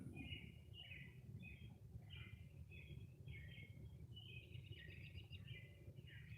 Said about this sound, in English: I hear a lot of birds chirping.